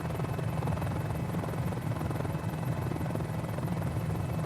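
A Mini-500 light helicopter engine running, heard through headset audio as a steady, loud, unbroken rotor drone with a thin high-pitched whine on top, close and continuous with no speech.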